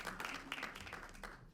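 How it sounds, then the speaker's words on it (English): Small audience at an educators' mental health panel discussion clapping for the panelists, a quiet, brief patter of hands heard from a distance. "can you give them a round of applause?"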